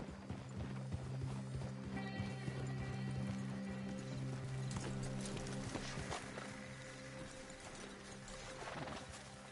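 Horses' hooves clip-clopping in a steady rhythm in Red Dead Redemption, with a whinny and snorts as riders dismount and lead the horses on foot, fairly close and continuous over a low game ambience.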